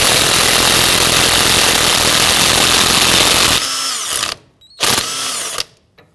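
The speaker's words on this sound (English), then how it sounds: "Now this is a 27mm nut. We're going to use our impact driver here to go ahead and loosen and remove this." An impact driver hammers steadily at a 27mm nut on the front strut of a 2009-2017 Volvo XC60, a loud continuous rattling buzz for several seconds, then two shorter bursts separated by near silence.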